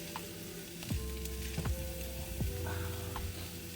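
Sausage browns in a frying pan with a constant quiet sizzle. Several sharp knocks and scrapes from a utensil breaking up the meat land at irregular intervals, close by and with no talking.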